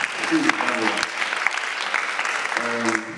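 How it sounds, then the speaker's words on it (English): A senior high school audience gives steady, sustained applause from start to finish, with a voice faintly audible over the clapping. "Let's give you another round of applause."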